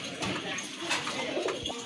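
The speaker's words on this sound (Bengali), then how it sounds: "মাশাআল্লাহ আরেক জোড়া কবুতর" Pigeons give low, soft cooing in a short, quiet burst, close and continuous with some mild background noise.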